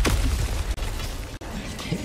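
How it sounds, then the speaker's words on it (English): Mortar explosions in Helldivers 2, with a heavy boom up front giving way to a dense, rumbling roar of blasts, loud and close, with no clear talking. "Yo, somebody hit me with a mortar."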